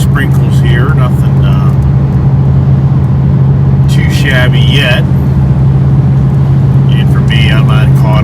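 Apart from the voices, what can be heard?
Ford Mustang Bullitt cruising at 2,000 RPM, 72 mph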